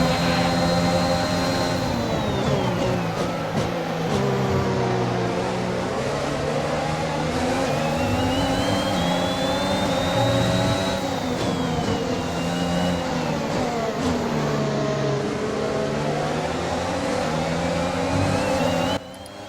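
Racing car engines in the F1 2021 game at the Dutch Grand Prix, a steady loud drone with pitch rising and falling through gear changes and corners, several cars running together without pause.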